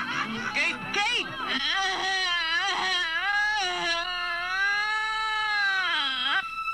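A cat lets out long, drawn-out yowls, several wavering cries rising and falling in pitch one after another, close and fairly loud in an indoor scene.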